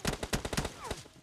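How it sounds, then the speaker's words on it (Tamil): Burst of rapid gunfire in the PUBG Mobile battle royale game, several close, sharp shots fired in quick succession, with a brief whooshing sweep near the end. "போட்டேன் ஹெட்ஷாட்"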